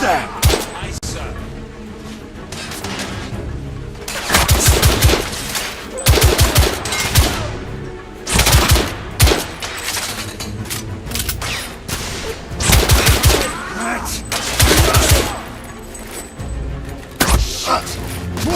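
Bursts of rapid automatic gunfire and single loud shots from The Order: 1886 video game come in repeated volleys during a firefight. They are close and loud, with shouted voices between and over them.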